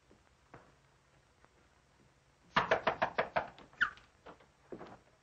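A rapid burst of about eight sharp knocks on a door, fairly close and loud, followed by a couple of softer taps, with no talking over it.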